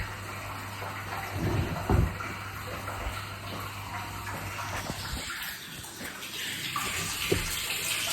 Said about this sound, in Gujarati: પાણી થોડું જ આવતું છે